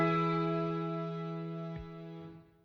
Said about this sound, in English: It's kind of like a string, synthy string sound.